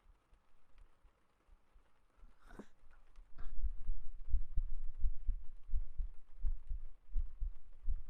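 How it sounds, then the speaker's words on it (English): A heartbeat thumps in a steady, regular rhythm of soft low pulses, close and muffled, after a quiet stretch with a couple of faint rustles. "This is my heartbeat."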